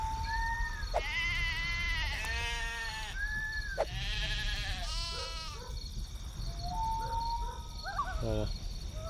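Lambs bleat repeatedly in the Black and White 2 video game, several harmonic cries in quick succession over a steady ambient hum, with a faint voice in the background.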